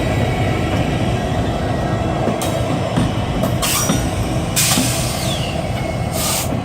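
Union Pacific SD70M diesel locomotive and train at a grain elevator, a loud continuous rumble close by with a few sharp hissing bursts like air brakes, no voices.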